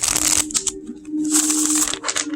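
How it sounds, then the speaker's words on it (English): A black-and-white Poe Tarot deck is shuffled by hand, quick crisp bursts of riffling card edges with brief pauses between them, close and fairly clear. "yeah, shuffles really well."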